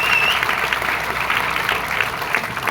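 Loud applause for the management team rises from an audience at a marketing company gathering, a dense, uneven clatter of clapping close by, with a brief high whistle near the beginning.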